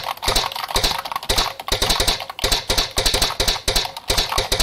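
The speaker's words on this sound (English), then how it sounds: "As I start typing more." Fast, continuous typing on a computer keyboard, recorded up close. Dense clacking keystrokes come in bursts with short pauses between them, loud and without any voices.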